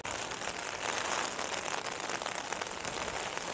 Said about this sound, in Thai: ฝนตกหนักมากนะทุกคน